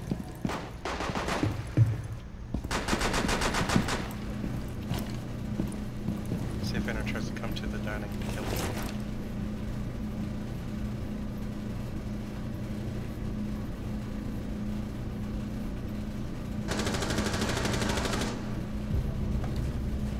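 Automatic gunfire bursts in Rainbow Six Siege on the Kafe map, with several rapid volleys early on and another sustained burst near the end, over steady game ambience and player chatter.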